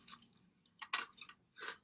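A crunchy bite into a McDonald's hash brown and McFlurry ice cream sandwich: a few quiet, close crisp crunches and chews in short bursts.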